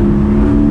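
2019 Porsche 718 Spyder, 420 hp, its engine holding a loud, steady, close drone under acceleration, with no talk over it.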